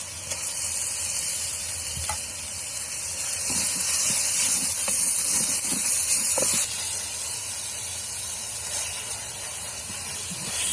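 Tomatoes added to cooked onion paste in an earthen pot, a continuous sizzle and hiss of frying with scattered soft stirring clicks and scrapes, alone and fairly close.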